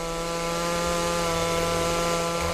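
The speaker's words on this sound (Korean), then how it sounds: "작업반원들이 다시 톱질을 시작한다." A chainsaw cutting wood at a logging site runs steadily at high revs, loud and close, its engine drone and cutting noise continuous throughout.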